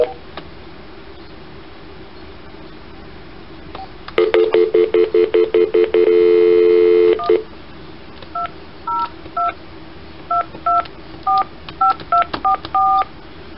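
A handset dials Senator Ron Wyden's Washington, D.C. office, first a loud run of rapid pulse clicks over a steady tone, then a quicker string of clear touch-tone beeps, close and prominent.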